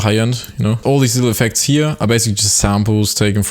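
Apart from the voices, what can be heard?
No distinct noise like a dog, phone or traffic.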